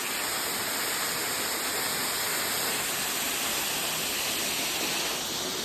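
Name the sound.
waterfall, water flowing over forest rock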